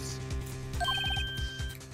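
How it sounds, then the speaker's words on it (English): A phone ringtone from the video game Phoenix Wright: Ace Attorney trills in a quick series of bright electronic pulses over a rhythmic background music loop, close and clear with no talking. "I heard a phone ring just now."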